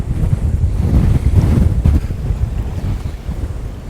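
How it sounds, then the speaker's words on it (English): Strong wind roars across open water, rumbling and buffeting close to the microphone, with waves washing underneath; no voices. "it is really windy"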